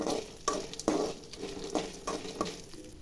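Dried chillies and tamarind dry-roasting in a pan over a medium flame, stirred with a steady rhythm of scraping strokes about every half second, with a soft crackle underneath.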